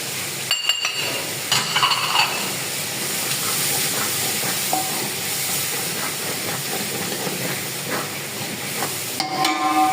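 Masala sizzling and being stirred in a pan while cooking Sindhi beh (lotus stem), a steady close hiss of frying with scraping and stirring throughout, no voices.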